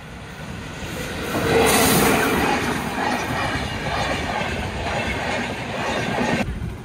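A train rumbles past up close, a loud steady roar with clattering wheels that holds for several seconds before cutting off.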